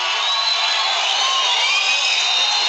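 A stadium crowd boos at a rugby match between Perpignan and Castres, a loud, sustained wall of jeering voices that holds steady throughout, with no commentary over it.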